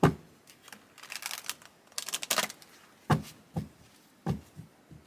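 Crisp papery riffling and sharp card slaps as tarot cards are shuffled, a few short bursts separated by pauses, close and fairly loud with no talking.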